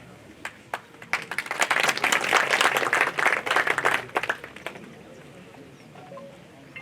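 An audience at a birth-anniversary commemoration speech for Rao Shekhaji bursts into applause, scattered claps building quickly into a loud, dense round of clapping that fades back to a few stray claps.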